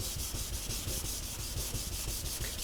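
Sandpaper of 150 grit rubbed over a primed surface, a close, steady rhythmic scratching in quick back-and-forth strokes, with no voices.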